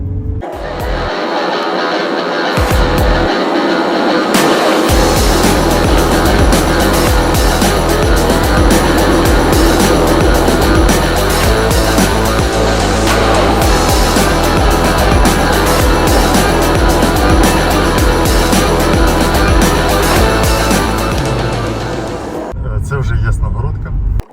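Car driving along a quiet, good-quality country road toward the village of Yasnohorodka, about 35 km from Kyiv: a steady loud road and engine rumble with tire noise, continuous throughout, with talking over it.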